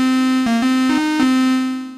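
Korg Mono/Poly synthesizer with detuned oscillators sustains a buzzy, harmonically rich tone that steps through a few pitches with slight beating, alone and fairly loud before fading at the end.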